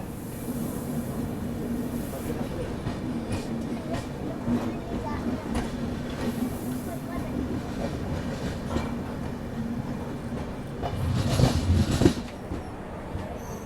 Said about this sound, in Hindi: हमारी ट्रेन पहुंच चुकी है निर्धारित समय से 34 मिनट के डिले से